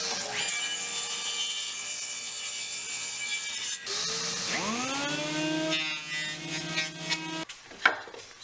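A board is sawn to length for a jewelry box, with a steady, bright, whining cut that shifts pitch partway through and ends with a few knocks.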